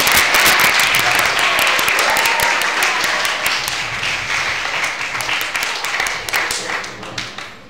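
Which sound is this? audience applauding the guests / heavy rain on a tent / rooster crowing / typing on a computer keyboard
audience applauding the guests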